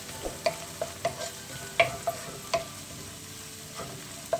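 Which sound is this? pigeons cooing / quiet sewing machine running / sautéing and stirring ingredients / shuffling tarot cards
sautéing and stirring ingredients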